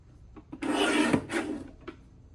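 A paper trimmer slices through a sheet of scrapbook paper in a quiet, close rasping stroke about a second long, followed by a shorter second pass.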